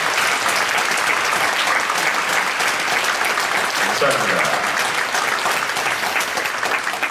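Congregation applauding at a Friday overnight church worship service, steady dense clapping throughout, with a brief spoken word of thanks over it.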